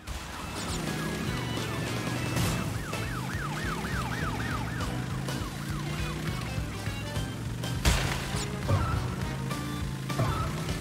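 A wailing police car siren in the racing game Crash Bandicoot N. Sane Trilogy, rising and falling steadily over engine rumble and game effects, with a few crashing hits near the end.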